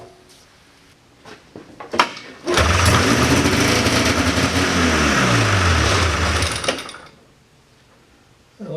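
A 1979 John Deere Cyclone 340 vintage snowmobile, running on old, stale fuel, gives a few pull-start clicks, then its engine catches and roars loudly for about four seconds, revving unevenly before it cuts out.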